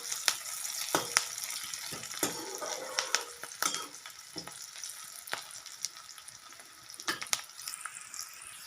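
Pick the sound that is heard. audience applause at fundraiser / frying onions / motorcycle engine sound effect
frying onions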